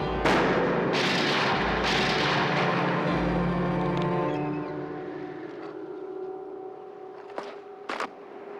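Rifle shots fired at a moving target on a shooting range, a few sharp loud cracks with booming low-end reverberation that decays, followed by quieter distant reports near the end.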